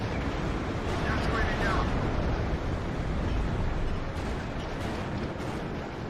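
Mortar artillery fire in WARNO, a dense, steady rumble of distant bursts and booms rolling continuously through the battle, with no clear single shot standing out.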